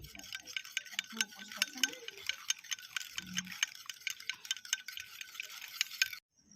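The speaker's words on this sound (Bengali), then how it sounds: "আমি ডিমের সামান্য একটু নুন আর সামান্য একটু গোলমরিচ গুঁড়ো দেবো, দিয়ে ফেটিয়ে নেব।" Eggs beaten with salt and pepper in a bowl, a quick, close series of light ticking taps from the whisk or fork for about six seconds, with faint voice-like murmurs underneath, then abrupt silence.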